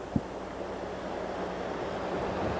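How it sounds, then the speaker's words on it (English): Floodwater flowing behind a former bakery in Champlain village, with ice chunks nearby, a broad steady rushing wash that fills the clip continuously with a slight wind buffeting on the microphone and one brief bump near the start. "You can see the water flowing through here"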